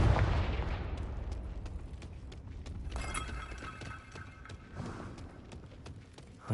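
Confringo fire spell in Hogwarts Legacy set off as a series of sharp blasts and crackles, followed by a ringing, shimmering burst and scattered impacts, fairly faint overall.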